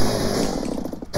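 Revving chainsaw from the video game Gears of War 4, a loud, continuous engine buzz with rapid pulsing that runs the whole moment and dips slightly near the end.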